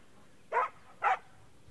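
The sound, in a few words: dog play barking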